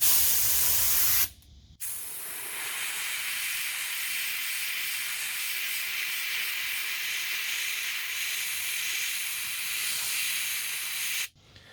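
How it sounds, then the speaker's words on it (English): A steady hiss of an airbrush spraying paint downward onto a 200mm surface fishing lure runs for about ten seconds, close and even, starting and stopping abruptly with brief gaps at each end. "So this time I'm going to spray downwards so I don't get too much overspray"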